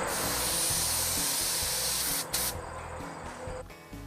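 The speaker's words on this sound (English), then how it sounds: "Turning the wings of the air cap vertical will give you a horizontal spray pattern." A paint spray gun fires a horizontal fan through air cap wings turned vertical, giving a continuous close hiss that cuts off abruptly partway through, leaving a quieter tail.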